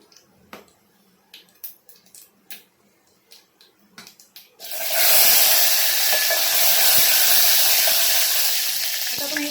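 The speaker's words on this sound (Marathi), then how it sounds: "आता जिरा टाकून घेऊया" Cumin seeds dropped into hot oil in a pan for a green-chili urad dal amti: a few light ticks and taps, then a sudden loud, steady sizzle that keeps going close up.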